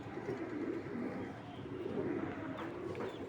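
A pair of silver Giribaz pigeons coo in soft, low, repeated throaty calls, quiet and close, over faint background noise.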